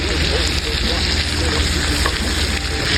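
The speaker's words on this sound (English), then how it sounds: "Now let's go ahead and flip this shrimp." Shrimp frying in a hot pan just after being flipped, a loud, dense, continuous sizzle close up with no talking.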